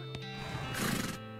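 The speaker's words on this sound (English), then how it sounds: "These are the horses I got." A horse in the western adventure video game West of Loathing gives a loud, close neigh that lasts about a second, with a few hoof clops at the start over steady game background sound.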